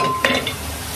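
Khichdi cooking in a pot, with a soft steady sizzle and a brief spoon stir against the metal near the start, all close and alone without talk.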